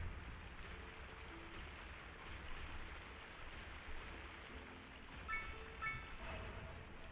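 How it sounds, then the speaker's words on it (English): Steady rain downpour in the Cities Skylines 2 city-building game, a continuous even hiss of falling rain with a low rumble beneath and a few faint tonal blips. "As it continues to downpour."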